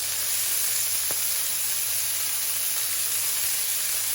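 Beef searing in a hot, uncrowded pan for lasagna al forno, giving a steady, close, even sizzle with a faint hiss throughout and one brief tick near the start, with no voices.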